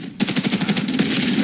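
Rapid automatic gunfire in the online shooter Warface, a dense burst of repeated loud shots that runs steadily for over a second, with no talk over it.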